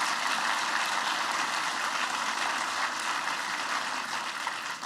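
Sustained applause from an audience at a New York infrastructure and transportation gathering, a steady wash of many hands clapping that fades slightly at the very end.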